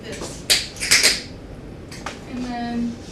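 Both feet strike a floor at once in a tap dance wing step, giving a cluster of sharp metallic taps early on, then fainter clicks, with a voice speaking low underneath.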